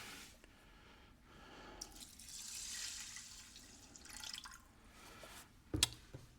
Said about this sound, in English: I've got the water measured out already, so I'm going to pour that in.